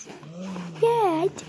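A dog whimpers in a high, wavering whine that rises and falls for about half a second, close by, after some softer low sounds.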